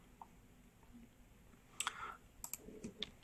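Keys on a computer keyboard are tapped in a short, sparse burst of clicks, faint and close, after a quiet lull at the start.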